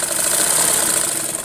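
Motorized sewing machine running steadily at speed after a motor was fitted, a continuous close mechanical whir and hum with no pauses or talk.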